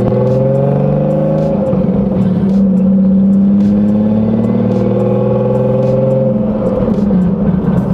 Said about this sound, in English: Give it gas. It's a stage 4 clutch, so you gotta give it some gas.